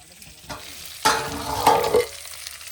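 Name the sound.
fish heads frying in a pan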